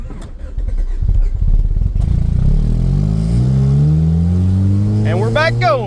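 Honda CRX Si barn-find engine running in gear after sitting over 10 years, a loud rough idle rising into a revving drone with rhythmic clatter, close, with a person speaking briefly at the start.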